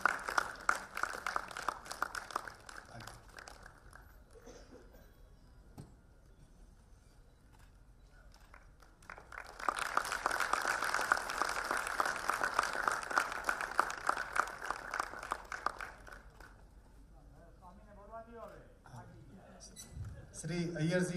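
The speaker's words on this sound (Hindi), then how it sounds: "एक बार आपसे सभी से निवेदन करूंगा कि ताली बजाकर इनका हार्दिक अभिनंदन करें।" Audience applause at a book release function, a broad sustained burst of clapping from a crowd that swells for several seconds mid-clip, with quieter stretches of talk and room noise around it.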